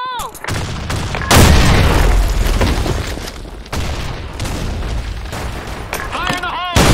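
Grenade explosion in the online shooter Blackshot, a loud boom that rolls into sustained battle noise with gunfire, with shouted voices heard near the start and end.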